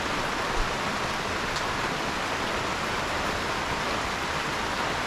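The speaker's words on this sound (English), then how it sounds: "Are you the one bringing the rain?" Steady, dense rain falls without a break, a loud even hiss from start to end with no one talking, heard outdoors while loading firewood into an IBC tote.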